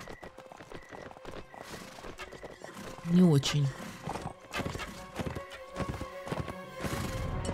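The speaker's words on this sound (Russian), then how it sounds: "Тихо, тихо, тихо, лошадь." A horse in Mount & Blade: Warband pounds along in rapid clip-clop hoofbeats, with one loud whinny partway through, while someone talks over the battle noise.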